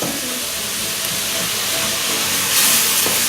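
Meat browning in a frying pan gives off a steady, loud hiss and sizzle that carries on without a break, with no talking over it.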